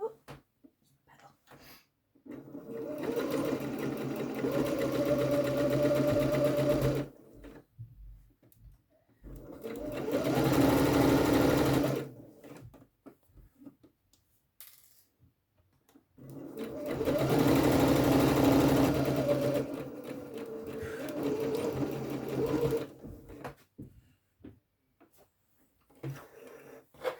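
A sewing machine stitches French seam pockets into side seams in three long runs of steady whirring, each lasting several seconds and separated by quiet pauses, close by, with faint brief talking between runs.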